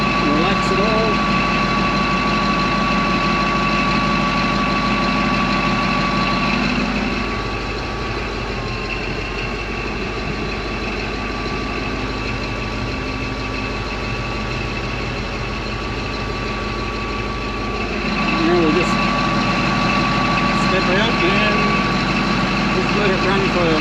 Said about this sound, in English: it's not a fast idle, but a little bit faster than it's probably normally where we'd idle it